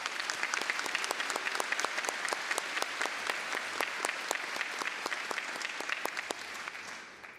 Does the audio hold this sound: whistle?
no